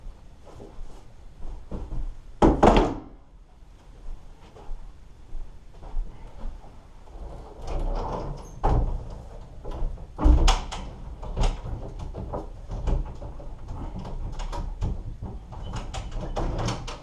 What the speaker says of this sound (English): So we need to remove all the doors